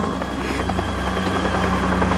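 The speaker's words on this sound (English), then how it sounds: "It's just a helicopter." A helicopter drones steadily overhead, its rotor thumping in a continuous low pulse with a broad engine hum, loud and unbroken throughout.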